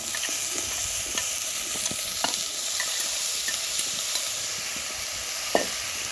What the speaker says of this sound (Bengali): টমেটো আর বেগুনটাকে দিয়ে ভালো করে আমি নাড়াচাড়া করে